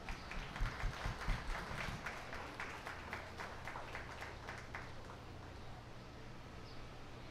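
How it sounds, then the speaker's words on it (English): Audience at a 4-H dairy show clapping, a short burst of scattered hand claps that soon fades into quiet background murmur. "So I think you guys can give them a round of applause."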